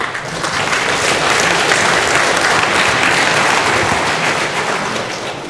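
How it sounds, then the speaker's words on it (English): An audience at a FOSDEM open-source conference session applauds the speaker, dense, loud, sustained clapping that fills the whole stretch evenly. "A warm round of applause for Howard Chu."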